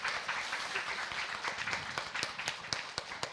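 A talk-concert audience on office life applauds. A moderately distant wash of clapping thins into distinct, irregular single claps toward the end.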